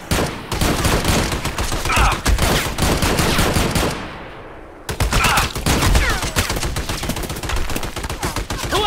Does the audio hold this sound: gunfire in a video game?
yes